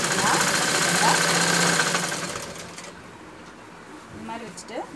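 A sewing machine runs steadily for about two seconds, its motor humming with a fast rattling stitch as elastic is sewn onto boys' shorts, then falls quiet while someone speaks.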